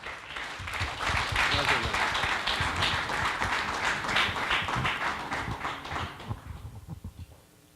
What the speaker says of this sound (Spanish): Vamos a brindarle un fuerte aplauso